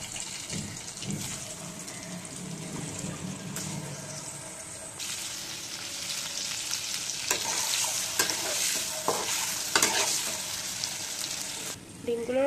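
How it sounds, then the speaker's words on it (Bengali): Eggs fry in oil in a wok that was just used to brown fried onions, giving a continuous close sizzle punctuated by scraping stirs and clinks of a spatula against the pan. "ডিমগুলো রেড রেড করে ফ্রাই করা হয়ে গেছে"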